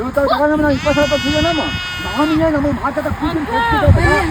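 Sheep bleat repeatedly nearby at a livestock sale, wavering cries overlapping each other with a busy, noisy background.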